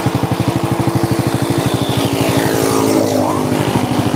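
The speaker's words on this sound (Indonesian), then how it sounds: "Ini motor masih bunyi loh. Renyes-krenyes." A worn Honda Supra motorcycle engine idles loudly close by, a fast regular putter with a rough knocking rattle, then the pitch rises briefly as the throttle is blipped.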